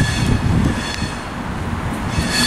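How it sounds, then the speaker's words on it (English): An electric Virgin Trains Class 390 passenger train approaches Wolverhampton station on the West Coast Main Line, rumbling close by with a steady roar and faint wheel squeal, swelling louder toward the end. "approaching now is going to be the early 1645 Virgin Train service heading from Edinburgh to London Euston"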